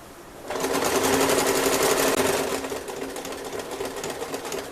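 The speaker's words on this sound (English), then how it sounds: "we're going to sew, actually try and sew right down the original seam" Sewing machine stitching down the original seam of a dress shirt being made into an apron, a fast, even whirring hum that starts abruptly, stays loud, then eases to a slower run.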